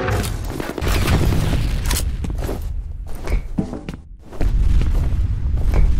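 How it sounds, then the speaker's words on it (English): A grenade explosion in the first-person shooter F.E.A.R., with heavy booming blasts and rumbling debris, loud and close, amid chaotic combat noise with brief lulls between the thuds. "Grenade out!"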